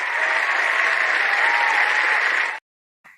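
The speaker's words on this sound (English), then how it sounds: "We need a round of applause for all of us and all the stuff we're proud of this week." A classroom group claps together in loud, dense applause that holds steady for a couple of seconds, then cuts off abruptly into silence before a faint sound returns briefly at the end.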